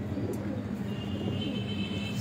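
Pigeons cooing softly on a rooftop in Dera Ghazi Khan, the owner's grandfather's old birds, a low steady murmur of coos under faint background hum.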